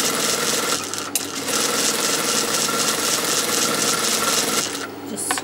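Sewing machine with a zip foot top stitching a salwar: a loud, close, continuous rapid mechanical whir and needle chatter that runs almost unbroken, with brief pauses near the start and end.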